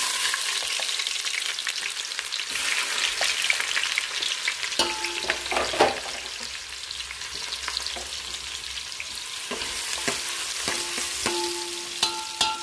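Chopped onion frying in a pan as pav bhaji is prepared for a catering order, a loud continuous sizzle broken by repeated clinks of a spoon stirring against the pan, with no speech.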